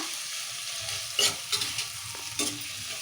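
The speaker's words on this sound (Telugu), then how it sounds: "కొత్తిమీర పుదీనా వేసాం కదా ఒకసారి ఇట్లా కలుపుకున్నాము" Coriander and mint are stirred into a sizzling chicken curry: a soft frying hiss runs under a few sharp scrapes and clacks of the spoon against the pan, with no voices.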